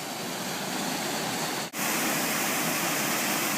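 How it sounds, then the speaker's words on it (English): Small waterfall in the Grand Canyon near Cottonwood on a rim-bound trail, a constant loud roaring rush of falling water with one brief dip in the middle. "Wow, beautiful little waterfall."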